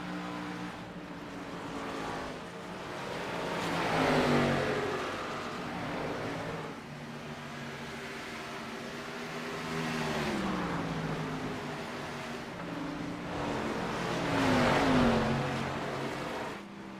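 Race cars circle Iowa Speedway during a FUN League race, engines droning continuously and swelling as cars pass, with pitch sweeps rising and falling in waves over a constant roar.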